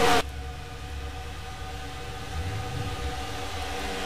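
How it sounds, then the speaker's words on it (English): A sustained, droning engine tone hums steadily in a stock car racing video game, following a short loud burst at the start and swelling slightly midway through. "sorry about that revving noise"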